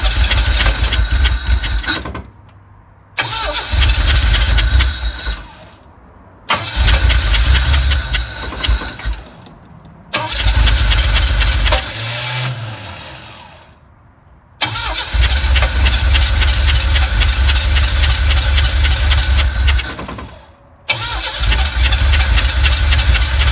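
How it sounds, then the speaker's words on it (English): A 308 Ferrari replica kit car engine cranks and fires several times, settling into a loud, close idle between starts, with short gaps of silence as it is restarted. "So I'm gonna start it now and let you see the engine and see what it's doing."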